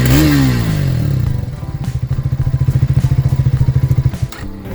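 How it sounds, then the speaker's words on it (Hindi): A Triumph motorcycle engine revs up and falls back, then settles into a loud, rapid, thumping idle from its exhaust, close by. "चलो भाई आपको बाइक का एग्जॉस्ट नोट भी सुना देते हैं।"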